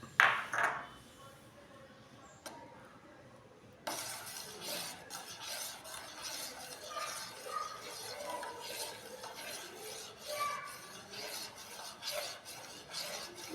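Tomato soap mixture stirred in a pot, a spoon scraping and rubbing steadily against the pot bottom in continuous close, moderately quiet strokes after a brief lull.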